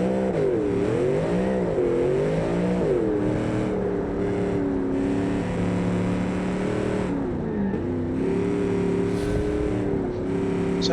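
A restomod car in a racing video game oversteers with its wheels spinning, the engine holding a loud, continuous drone whose pitch wavers up and down, with no talking.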